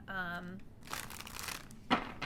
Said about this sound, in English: I'm going to just shuffle this little statuses deck